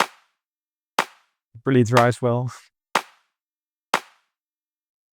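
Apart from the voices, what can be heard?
hand clap drum sample in an Ableton Afro House remix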